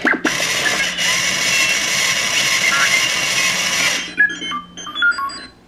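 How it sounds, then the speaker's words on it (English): A Disney Store R2-D2 feature figure toy runs its loud motor and wheels in a steady, buzzing whir for about four seconds, then stops and gives way to a few short electronic beeps and chirps. "that is a super loud motor and wheels in there"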